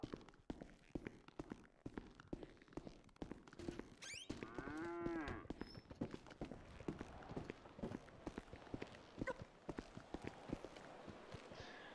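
A cow in the video game FiveM (GTA V) lets out one drawn-out moo at middle distance amid steady footsteps and rustling movement, no voices.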